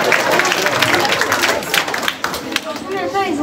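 Students clapping in a school hall, a burst of crowd applause mixed with chatter and voices, close and lively, thinning toward the end as speech carries on over it.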